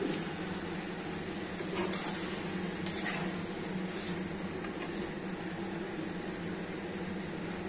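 A mixed vegetable curry of potato, pumpkin, pointed gourd, okra and drumstick cooks in a pan with a steady, even sizzle and bubbling hiss. A couple of soft stirring knocks sound partway through.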